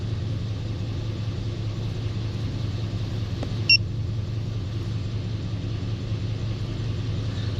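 A 2004 Dodge Ram with the 5.7 Hemi V8 idles steadily, a low even rumble close by with no throttle input, showing a suspected closed-loop fault on bank 1, alone apart from one brief click.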